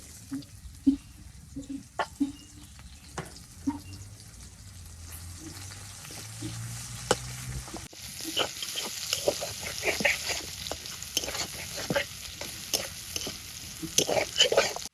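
Chopped onion frying in oil in a village kitchen pan, a steady sizzle with scattered scraping stirs, quiet at first and turning louder and denser in the second half.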